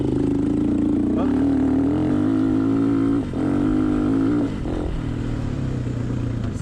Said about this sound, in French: Cette moto elle est faite pour rouler sur le couple. Et là je suis en 3e.